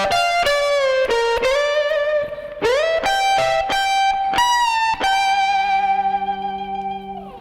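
Distorted electric guitar plays rock solo licks, with sharp picked notes, bends and sustained held tones, loud and up close, ending on a ringing note with no talking.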